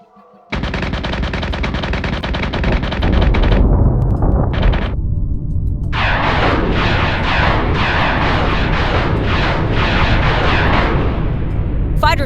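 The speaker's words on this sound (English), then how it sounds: "Fighter squadron is taking fire." Space fighter squadron combat in the game Battlestar Galactica Deadlock: loud, dense gunfire and engine roar start abruptly, briefly thin out, then resume as rapid repeated bursts that continue to the end.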